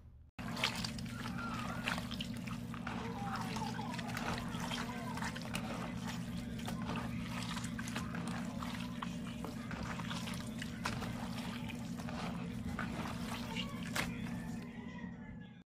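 Chicken intestines for isaw barbecue being rinsed and swished by hand in water, a continuous close sloshing and trickling with a steady low hum underneath throughout.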